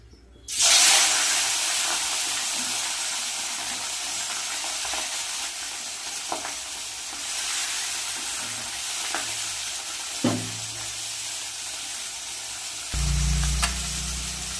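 Steady crackling sizzle of tengra catfish frying in hot oil, continuous and close, with a few soft clinks and a low thump near the end.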